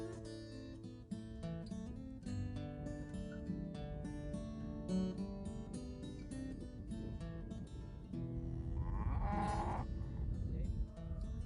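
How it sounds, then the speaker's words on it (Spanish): Pyrenean breed cattle in a hillside pasture near Salinas de Oro in Navarre, with a cow's moo or bleat-like call rising near the end over a steady, busy background of layered sound. "Varios centenares de vacas de raza pirenaica pastan en sus montes y prados."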